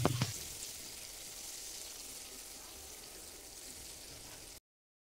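Whole cumin seeds, two dried red chillies and two bay leaves drop into hot oil for a cabbage and fish-head ghonto, giving a brief clatter followed by a steady, even sizzling hiss with no talking.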